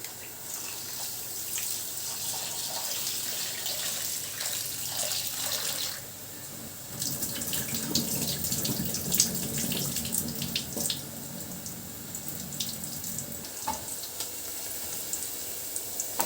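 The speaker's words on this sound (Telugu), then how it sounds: "చాలా క్విక్గా ఈ రైస్ని వాష్ చేసుకుందాం." Rice being washed under a running kitchen tap, steady splashing water with swirling and stirring noises, fairly soft and continuous, intensifying in the second half as the grains are agitated.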